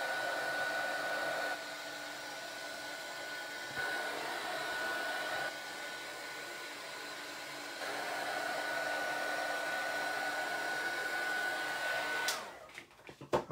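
A heat tool blows steadily and close to set embossing powder on a letterpress card, a constant whirring hiss that dips and returns in level a few times before cutting off abruptly near the end.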